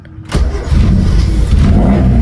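An old car's engine cranks briefly after a short quiet moment, catches and settles into a loud, close, steady running idle, with no one talking.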